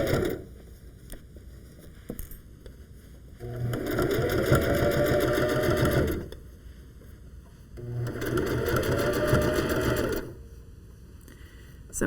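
A sewing machine stitches through a thick felted sweater, running in two sustained whirring bursts of a few seconds each, separated by quieter pauses, close and alone without talk.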